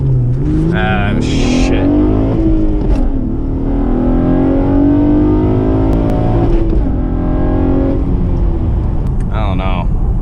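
A car launches with the clutch slipped at 3000 rpm, the engine revving up and climbing steadily in pitch, loud and close, with a brief spoken exclamation near the start and another short sound near the end.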